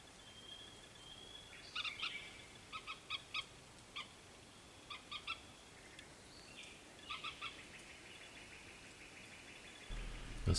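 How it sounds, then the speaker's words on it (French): Birds call at night, clusters of short chirping owl-like notes in a faint distance over a steady background hiss, repeating in irregular bursts. "Oiseaux. Ouais, les oiseaux."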